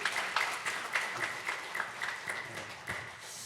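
Church congregation during a Sunday morning service breaks into applause, a moderately quiet, rhythmic clapping with regular beats that continues briefly without speech.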